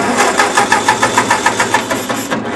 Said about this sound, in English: let's see if this auxiliary position will make the engine run